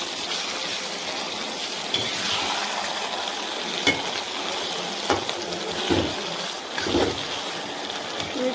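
Chilli cabbage with onion, capsicum and sauce being stirred and fried in a pan, giving a steady broad hiss broken by several scraping stir strokes, with no one talking.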